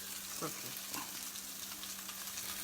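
Turkey queso burgers frying in oil in a pan, a soft steady sizzle with a few faint utensil scrapes and taps, quiet and close.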